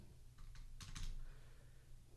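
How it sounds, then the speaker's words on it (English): Quiet close-up typing on a computer keyboard while entering spreadsheet formulas, a few soft scattered keystrokes then a quick cluster of clicks over low background hum. "typing things in lazily today"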